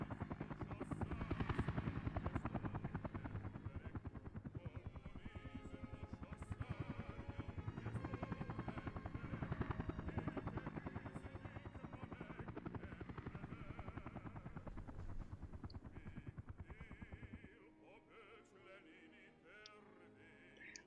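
Helicopters at work in the city-building game Workers and Resources, a steady droning rotor hum that fills most of the stretch before dropping to a quieter background after a few seconds near the end.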